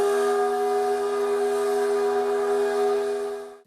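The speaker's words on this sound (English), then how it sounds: "The iconic whistle that could be heard outside of the Panama City paper mill for decades" A steam whistle at the Panama City paper mill sounds one long, steady, loud tone rich in harmonics, held for several seconds before cutting off.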